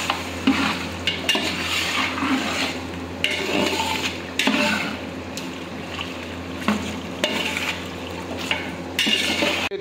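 Ginger garlic paste stirred into sizzling biryani masala for Hyderabadi chicken biryani, with a spoon scraping the pan in repeated strokes over a steady close fry, heard alone.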